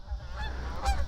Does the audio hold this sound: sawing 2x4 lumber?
no